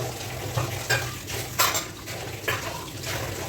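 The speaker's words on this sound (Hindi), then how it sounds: "सारे बर्तन पानी में से निकाल के फिर बाद में साफ़ करूँगी।" Dishes and utensils are lifted out of water in a kitchen sink, with a steady wet clatter of metal and ceramic and a few louder clinks and splashes, close by and continuous.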